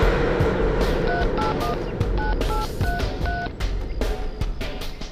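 A phone number is dialled, a quick series of paired tone beeps pressed at an uneven pace over background traffic and street noise.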